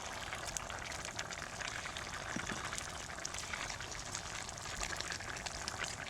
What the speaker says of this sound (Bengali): এখন আমি এতে ঝোল দিয়ে দেব